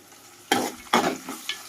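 Oggarane tempering spitting in hot oil in a pan before flattened rice is added: three sharp, loud bursts of sizzle in quick succession, each fading, heard close with no talking.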